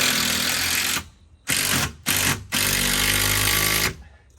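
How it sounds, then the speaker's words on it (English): A power drill drives 4-inch screws through wooden fence pickets and a 2x4 into a gate post, several loud whirring bursts separated by short pauses as each screw sinks in. "I've got some 4-inch screws that I'm just gonna go right through the pickets"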